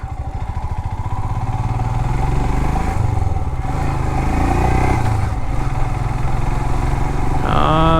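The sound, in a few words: Royal Enfield Himalayan BS6 motorcycle riding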